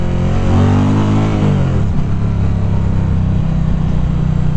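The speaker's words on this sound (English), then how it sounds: "you feel that sport mode when you let the clutch all out at once" A 2020 Indian Challenger motorcycle accelerating hard in sport mode, its engine note rising steadily, then dropping at a shift and pulling again, loud and close.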